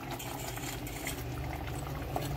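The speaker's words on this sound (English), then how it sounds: "I'm just gonna let it simmer down" Oxtail stew simmers in a pot with ketchup added, giving a steady close bubbling hiss with faint small pops and no talking.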